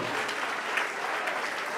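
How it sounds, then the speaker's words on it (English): Congregation clapping steadily during a lively church worship service, a dense continuous wash of many hands at moderate volume with no clear pauses, faint voices mixed underneath. "Don't stop clapping for your God."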